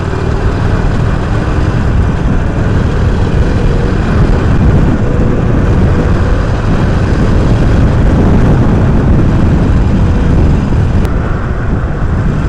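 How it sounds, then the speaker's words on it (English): Loud, steady wind roar and low engine rumble from a Harley-Davidson 48 1200cc motorcycle being ridden, a continuous rushing drone with no talk. "I'm riding this bike for the first time, a 1200cc bike with so much of power"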